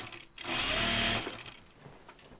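A sewing machine stitches an anorak seam in a single steady whirring run of about a second, starting and stopping cleanly in a quiet room.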